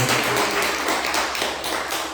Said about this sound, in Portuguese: Palmas para Jesus, irmão.